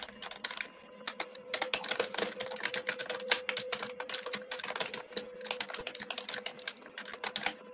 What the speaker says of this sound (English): And the typing intensifies.